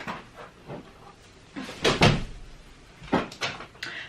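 A bedroom door swings and is pushed shut in a quiet room, a couple of soft thuds and a latch click close by, with light handling noise around them.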